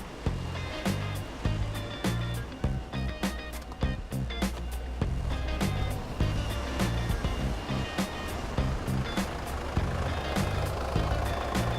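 An idling car engine with the oil filler cap open, running as a steady loud rhythmic clatter with regular sharp ticking throughout, close by and without pause.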